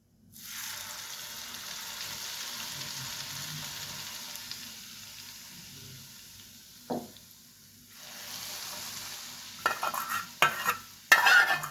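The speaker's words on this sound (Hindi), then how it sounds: "जो ऑयल है इसको इसमें ऐड कर देंगे गरम गरम" Hot oil poured into a kachumar pickle mixture sets off a loud, steady sizzle that slowly fades, followed by a few clinks and a stirring clatter near the end.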